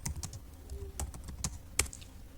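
Short, brisk burst of typing on a computer keyboard, with irregular key clicks close to the microphone and no voices.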